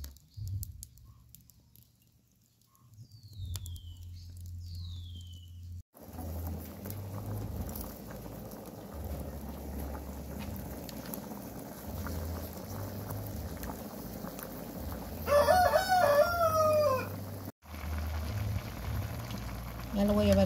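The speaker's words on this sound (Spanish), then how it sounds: "Ya voy a poner mi cacerolita para que hierva mi maíz." Maize boiling in a small pot over a wood fire for atole: a steady bubbling hiss fills most of the clip after a quiet start, with a brief burst of bird chirps near the end.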